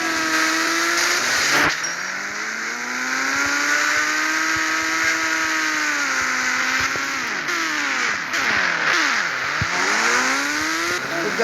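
A vehicle engine revs hard in a sustained full-throttle run, its pitch sweeping up and down through several gear changes, loud and close with no talk.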